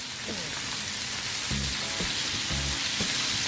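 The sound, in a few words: filet mignon and asparagus sizzling in a pan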